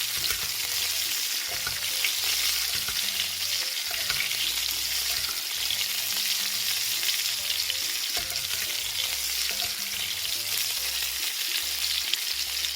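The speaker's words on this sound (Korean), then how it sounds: "이 버터를 이렇게 녹은 버터를 스테이크 위로 계속 올려줍니다" Sirloin steak sizzles steadily in a de Buyer iron pan while melted butter is spooned over it, a continuous close frying hiss with small clinks and stirring sounds throughout.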